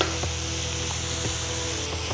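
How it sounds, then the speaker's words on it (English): Onion and carrots sizzle steadily in a hot pan for a tomato-based sauce, with a loud constant frying hiss and occasional soft knocks of a spoon stirring through. "Just stir through just for a few minutes, just to sort of cook through that onion and start to soften the vegetables."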